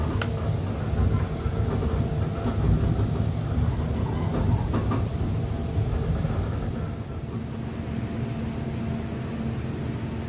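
KA Brantas economy-class train pulling out of Solo Jebres station at night, heard from inside the carriage as a steady loud rumble with rhythmic wheel clatter and a brief higher squeal early on.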